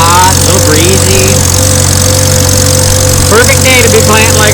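A late-1940s tractor engine runs loud and steady while pulling a corn planter through a field, a constant close drone with someone talking over it.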